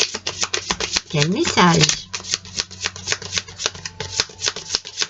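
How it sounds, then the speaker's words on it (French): Animal tarot cards being shuffled close up, a rapid run of crisp riffling flicks throughout, while someone speaks briefly in French over them. "on va tirer une carte du tarot des animaux pour voir un petit peu"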